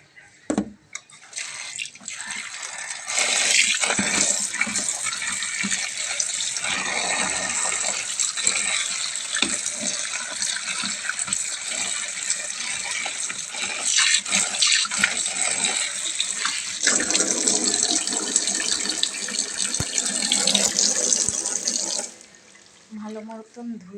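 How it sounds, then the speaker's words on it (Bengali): Cut vegetables in a basket are rinsed under a running tap, making a steady, close gush of water broken by occasional splashes and shifts in flow before it stops near the end. "কেটে রাখা সবজিটা একটু ধুয়ে নেব।"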